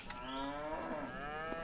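Dairy cows in a barn in Farming Simulator 25 let out a long, drawn-out moo with a second overlapping lowing call, close and full over a steady background hum.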